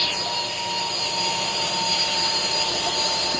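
Jet airliner engines in a video game as the plane comes in to land on an aircraft carrier, a steady, even whine and roar held at constant loudness throughout, with no talking.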